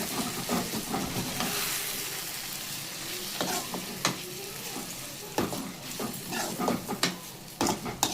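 Tomatoes and onions stir and sauté in a pan for chicken thokku, a steady sizzle broken by repeated sharp scrapes and taps of the spoon against the pan, close and alone.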